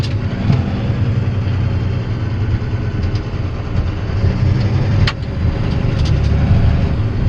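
A vehicle engine runs steadily while driving to spread ashes, a loud continuous low rumble with a brief dip near the end, close and without speech.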